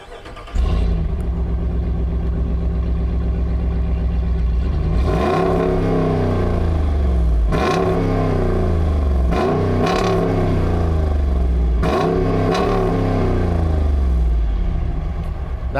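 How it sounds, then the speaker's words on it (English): A 6.4-liter V8 engine in a 2022 Jeep Grand Wagoneer cranks and catches, settling into a deep rumbling idle, then revs sharply three times, each roar falling back to idle. "Let me go ahead and fire it up so you can hear that engine."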